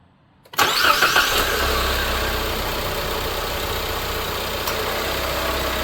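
A car engine, just fitted with new spark plugs, cranks briefly and catches with a sharp start, then settles into a steady, even idle that runs on alone without voices.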